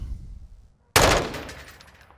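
FR Avancer rifle fired in a video game: one sharp, loud shot that cracks in suddenly after near silence and rings off in a long fading tail.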